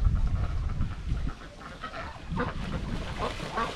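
Ducks on a pond on a cold, windy day, a few quacks and honks rising over heavy wind rumble and outdoor noise, fairly faint and intermittent.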